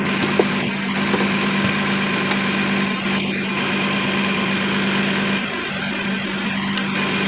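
A 2007 Kia Sedona engine idles with its AC compressor clutch engaged, giving a steady, loud mechanical hum with a constant low drone that holds unchanged throughout, heard close and alone.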